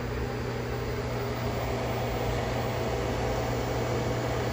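A Commercial Chef 700 watt microwave oven cooking at full power on an inverter gives a steady, close hum with a broad airy whir and a constant low tone, unchanging throughout with no talk.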